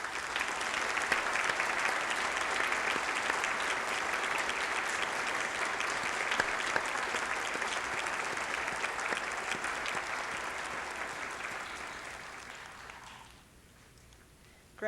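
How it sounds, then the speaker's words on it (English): Sustained audience applause for the graduating class at a university fall convocation, even dense clapping that holds for about thirteen seconds before fading away to a quiet room. "let's all take this opportunity to give our graduating class a round of applause"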